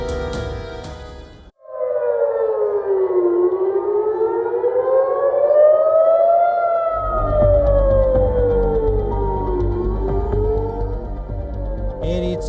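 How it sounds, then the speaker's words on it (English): A civil defense air raid siren wails loudly, its pitch rising and falling in long slow sweeps with a low rumble underneath, sustained throughout after a brief quieter opening. "sirens wail their haunting warnings as terrified families dive into underground shelters"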